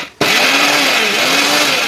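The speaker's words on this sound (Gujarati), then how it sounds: "હવે આપણે એને મિક્સરમાં પીસી લઈએ" A mixer grinder starts abruptly and whirs loudly and steadily, grinding sugar to a fine powder, a high motor whine running on without pause.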